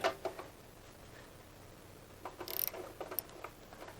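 Close, faint ratcheting and mechanical clicks as a T30 Torx bolt is loosened by hand in a blind-access spot on a Harley-Davidson Pan America motorcycle during scheduled maintenance.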